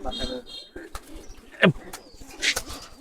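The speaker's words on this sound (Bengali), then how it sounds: "এই যে কবুতরটা আমার ঘরের" A home-bred racing pigeon gives low coos close by, mixed with rustling and someone talking over it.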